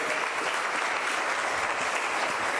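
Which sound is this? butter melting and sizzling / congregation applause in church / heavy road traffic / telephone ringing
congregation applause in church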